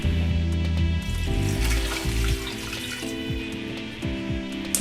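Tap water runs steadily into a pot of soup ingredients with peppercorns, about two and a half liters poured to cover them, a close, continuous splashing and trickling that shifts in pitch as it fills, with no talk.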